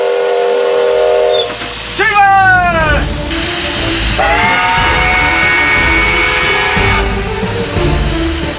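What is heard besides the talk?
steam locomotive departing, hissing steam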